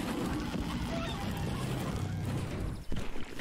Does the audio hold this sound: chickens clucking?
yes